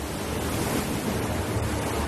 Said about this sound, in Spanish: las olas rompen las barreras de la ciudad.